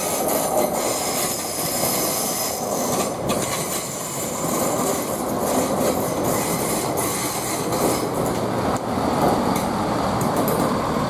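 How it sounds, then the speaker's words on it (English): A British Rail Class 170 diesel multiple unit pulls into Nuneaton station on the West Coast Main Line, running Leicester to Birmingham New Street; a loud, steady engine roar with wheel rumble and faint squeal fills the whole stretch, no voices. "and the next train to arrive, we've got 170 396"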